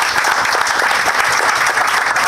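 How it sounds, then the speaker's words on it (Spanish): Audience at a Mexican community event breaks into warm, continuous applause, many hands clapping at once in a dense, even burst that lasts the whole moment. "Un aplauso para ella."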